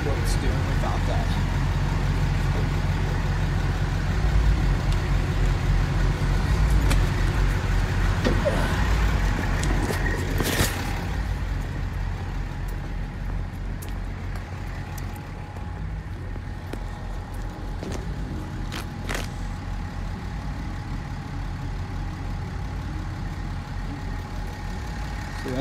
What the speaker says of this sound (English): That's the liftgate